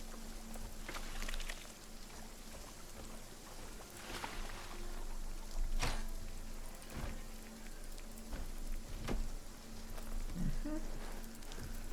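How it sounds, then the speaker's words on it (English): Rain falling in RuneScape: Dragonwilds, a soft, continuous patter of drops on surfaces with a steady low hiss and a few brief louder taps, moderately quiet. "It just started raining."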